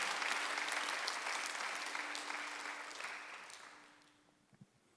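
A church congregation claps through a Sunday worship service, the applause dense and steady at first, then thinning and fading out toward the end, with a faint sustained tone beneath.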